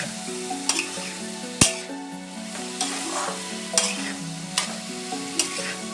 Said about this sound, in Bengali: এটাকে ভালো করে নাড়তে হবে আলু বেগুনটা।